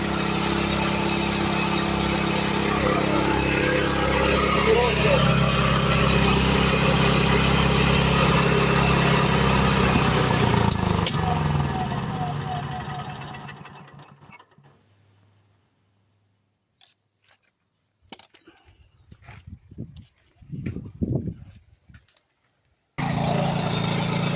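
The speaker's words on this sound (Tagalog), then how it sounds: "napandar natin yung makina" A loud engine runs steadily with a heavy low rumble for about twelve seconds, then winds down and cuts out, leaving quiet with scattered knocks and handling noises.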